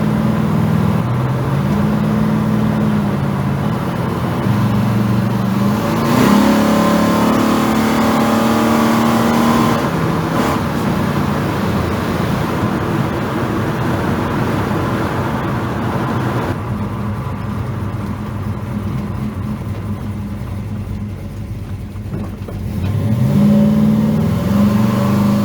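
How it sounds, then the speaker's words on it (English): A car revs and accelerates hard while its wheels struggle for traction, a loud, continuous engine roar rising and falling in pitch over about twenty-five seconds, close to the listener. "We can't get any traction, but we ain't got one wheel peeled"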